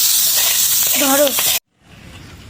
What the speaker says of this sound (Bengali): তো পাতারি মাছ ভুনা করার জন্য আমরা সরিষার তেল গরম করে নিলাম